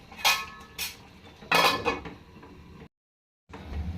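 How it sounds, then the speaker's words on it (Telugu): A metal lid set onto a cooking pot of brinjal masala curry gives two or three close clinking knocks of metal cookware, followed by a brief silence and then soft kitchen clatter. "మూత పెట్టుకుంటాం"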